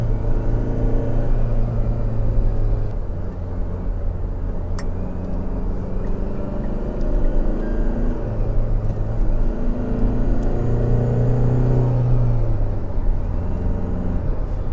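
A Tata Harrier with a red engine is driving on the road. A continuous, fairly loud engine and road drone holds steady with slight rises in pitch, and no voices are heard.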